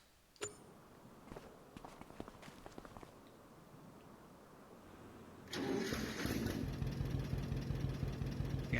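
An old stock tractor engine cranks and catches after a few footsteps and clunks, then settles into a loud, steady idle that runs to the end.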